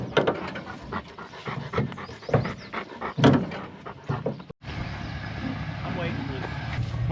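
Dogs pant rapidly and close inside a pickup truck, including one named Bella, with rhythmic huffing breaths over engine and road noise, a brief whimper, and people talking over it.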